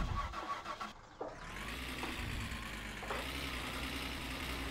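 A van's engine, just pulled out of a lake, cranks and catches, then settles into a steady, rough idle that runs on close and continuous with no talk over it.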